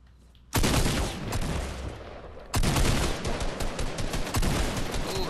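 Gunfire from a video game: two loud, close bursts of rapid shots, the first cut off after two seconds and the second running steadily to the end, with no talk over them.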